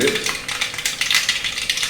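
Mustard seeds crackle and pop in a hot kadai in quick, irregular bursts, with a faint rattle from the pan.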